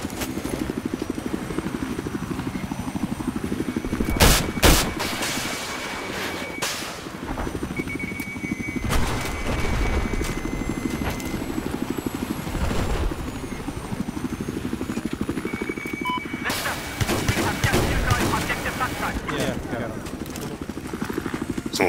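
A helicopter's rotor thrums steadily throughout in Battlefield 4 on the Golmud Railway map while voices talk over it, with occasional sharp bursts and thuds.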